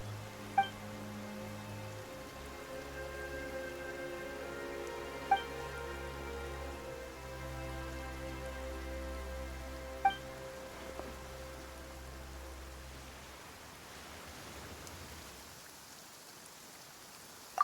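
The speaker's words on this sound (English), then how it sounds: "Why is it raining all of a sudden?" Sudden rain falling in Genshin Impact, a soft, steady patter of drops over a sustained droning musical backdrop, with a few brief brighter accents, fading toward the end.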